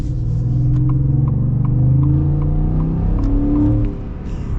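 The 5.0-litre Coyote V8 in a 2024 Ford F-150 pickup rumbles with a deep, steady throaty drone, loud and close, swelling slightly as it revs and easing at the end.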